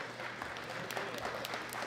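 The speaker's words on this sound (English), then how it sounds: "he gets a round of applause." Crowd clapping at the 2018 World Classic Powerlifting Championships medal ceremony, a continuous dense patter of many hands with a few sharper claps standing out, steady in level for the whole stretch.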